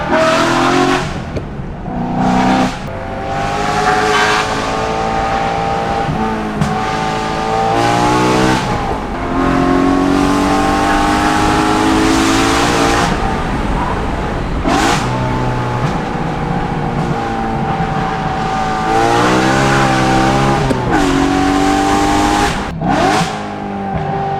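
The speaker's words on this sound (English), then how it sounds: "This car is not that fast, but it's very exciting with this exhaust." A BMW S65-engined car with a Valvetronic Designs V2 valved sport exhaust revs repeatedly, valves open, rising and falling in pitch with a raspy, loud exhaust note, close by, with brief pauses between pulls.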